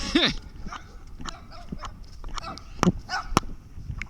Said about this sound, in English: The dog's trying to prove something.